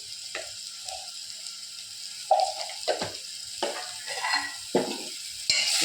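Onions frying with turmeric, coriander and cumin powder make a soft sizzle under repeated spoon scrapes and stirring knocks in the pan, irregular and close, without speech.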